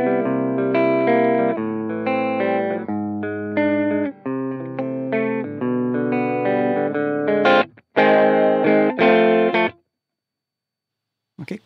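Electric guitar played through a BOSS BP-1w preamp pedal in RE mode at low gain, strumming a series of loud, ringing chords with slight grit, a brief break midway, then a final chord and silence.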